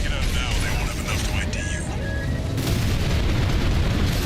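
Explosions in the mech combat video game Armored Core 6, dense rumbling booms and mechanical clatter running continuously and loudly throughout, with a voice talking over them.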